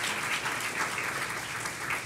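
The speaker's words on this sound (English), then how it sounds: "can we give a warm round of applause for this amazing" Audience at a domestic violence community resource fair and symposium gives the panel a warm round of applause, a continuous, even wash of many hands clapping throughout.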